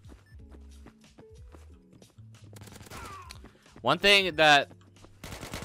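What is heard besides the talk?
gunfire in a video game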